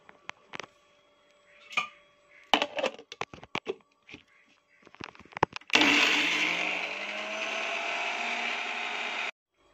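Clicks and knocks of a jar being loaded and fitted, then a kitchen blender starts and grinds cumin and black pepper into a paste, a loud, steady whirring drone close by that cuts off abruptly.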